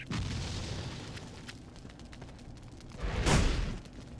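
A robot companion self-destructs in Torchlight II, a deep explosive boom with a rumbling burst that swells near the end over a noisy, crackling game background.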